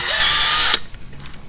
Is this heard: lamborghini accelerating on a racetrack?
no